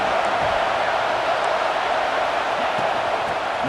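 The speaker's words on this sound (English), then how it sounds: "Man, this crowd really affecting the football game." A stadium crowd in the EA Sports College Football 26 video game roars as a steady, dense wash of cheering and noise that holds at an even level throughout, with no clear individual voices standing out.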